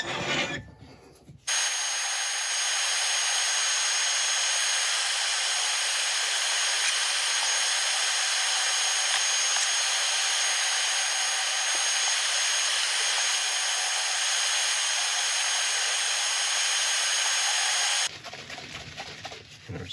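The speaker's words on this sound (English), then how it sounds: "Just sand it." Woodturning piece being sanded on the lathe, a loud, steady, hissing rasp of abrasive on spinning wood, held continuously for nearly the whole stretch with brief quieter gaps at the start and end.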